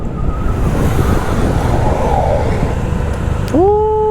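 Car and truck traffic on a mountain road at Gunung Mas in the Puncak area near Bogor, heard as a steady loud roadside rumble of passing vehicles, ending with a rising horn-like tone near the close.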